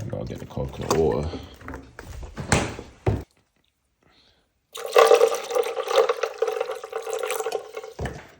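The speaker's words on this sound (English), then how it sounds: "Probably did 150 milliliters of coconut water there." Coconut water is poured into a blender with banana and ice, a steady liquid gush lasting a few seconds after a short silence, with talking before it.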